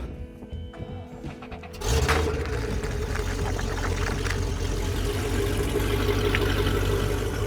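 An engine turned over with a key, with a short stretch of mechanical rattle before it catches, then settles into a loud, steady low rumble that runs unbroken to the end.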